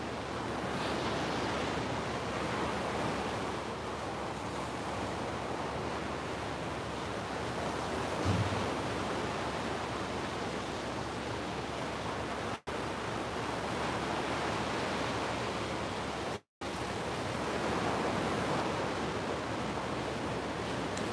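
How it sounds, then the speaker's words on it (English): Big ocean waves crash at sunrise in a continuous, full-bodied surf roar mixed with wind buffeting the microphone, steady throughout, with two brief dropouts and no voices. "soak in the sound of the waves"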